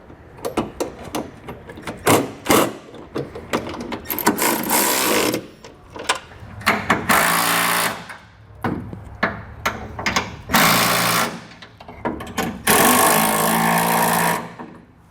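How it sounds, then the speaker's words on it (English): Socket wrench work tightening two bolts with a 13mm socket while installing Westin R5 modular nerf bars, with bursts of ratcheting clicks, metallic clanks and handling noise in irregular loud spurts, close and without talk. "So we're just going to take a 13mm socket. I'm going to tighten down these 2 bolts here first."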